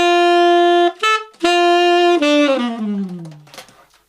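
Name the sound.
tenor sax phrase from Waiting for a Star to Fall, ending in a fall-off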